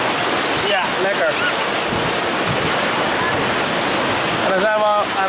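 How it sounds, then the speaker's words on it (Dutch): White-water rapids ride at Avonturenpark Hellendoorn in the Netherlands, a loud, continuous rush of churning water that fills the whole scene, with faint shouting voices breaking through now and then. "De langste wildwaterbaan van Nederland."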